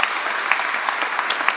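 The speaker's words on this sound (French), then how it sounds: "Je vous demande de les applaudir." Audience applause at an aeronautics museum inauguration ceremony in Provence, a steady wash of many hands clapping at close range with scattered louder claps, no voices over it.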